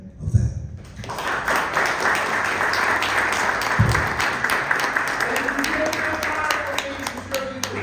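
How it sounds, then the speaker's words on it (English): An audience applauds speaker Michael McCarty at a Dr. Huey P. Newton Foundation event, a dense burst of clapping that swells after a brief pause and holds steady, with a few voices calling out beneath it. "Another round of applause for Michael McCarty, everybody."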